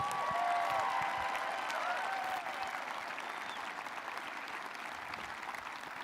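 A high school graduation crowd at the Rock Canyon High School 2020 ceremony applauds steadily, a dense wash of clapping that fills the space and eases slightly partway through, with faint whistles early on.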